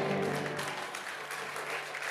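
A congregation at an online church service applauds in a steady, moderately quiet wash of clapping that continues evenly for about two seconds.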